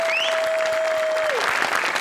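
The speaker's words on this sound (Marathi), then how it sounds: "अरुण दादांसाठी एकदा प्लीज जोरदार टाळ्या झाल्या पाहिजे." Loud, dense applause from a studio audience of a Marathi comedy show, cheering for Arun Dada; steady clapping fills the whole stretch with a sustained tone ringing through the first part.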